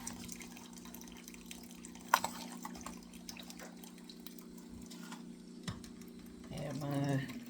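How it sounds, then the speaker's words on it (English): Half a cup of water is poured into a cup of tea: faint trickling and dripping under a steady background hum, with a few small knocks and a brief louder splash near the end. "Add my half a cup of water."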